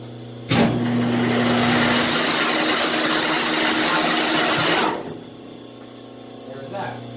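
A Rockwell lathe with its brake removed spins up to speed, giving a loud, steady broadband whir with a low hum that holds for about four seconds and then cuts off, leaving a quieter background.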